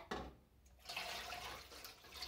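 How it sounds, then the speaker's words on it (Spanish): Water poured slowly into a foil-covered baking dish holding a mango flan mold, filling it halfway for a water bath: a steady, close splashing and trickling that starts softly and then runs continuously. "con mucho cuidado le vamos a agregar el agua hasta la mitad"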